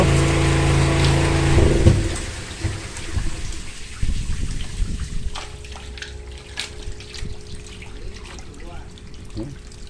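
Water gushes and splashes steadily into a fish tank holding African catfish, loud at first, then easing into a lighter trickle with scattered drips and splashes, with brief voices underneath.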